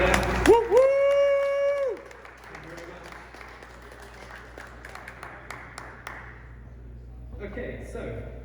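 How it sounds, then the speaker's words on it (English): A conference audience at Cypherpunk 2023 applauds the Blocksquare team, with a whoop and cheer at the start, then steady clapping that fades over several seconds. "if I can get a round of applause for Blocksquare there"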